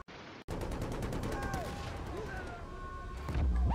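Rapid gunfire bursts crackle in the video game Battlefield 1943, with fast repeated shots rattling over a busy battlefield din. The shots end in a louder, heavier blast.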